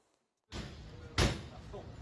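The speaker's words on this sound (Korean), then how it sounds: "소방대원들이 강제로 문을 열기 시작합니다" Firefighters force open the entrance door of a karaoke room in Changwon, Korea: a burst of clattering noise begins, then a single loud, close slam or thud, followed by continued rattling and commotion.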